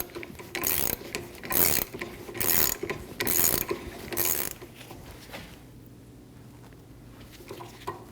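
A 17mm wrench ratchets and clicks in bursts while tightening a rear shock absorber nut on a 2012-2022 Volkswagen Passat, with the rod held by adjustable pliers. Close metallic clicking pulses give way to quieter scraping and a low hum.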